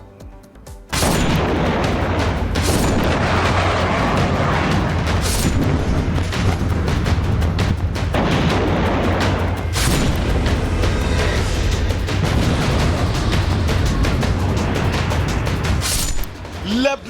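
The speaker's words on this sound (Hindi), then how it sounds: "लेबनान के अल जबोर हाइट्स पर धमाका।" Loud, continuous barrage of heavy booms and blasts from air strikes in Lebanon, with sharp bursts recurring every few seconds over a dense rumbling roar.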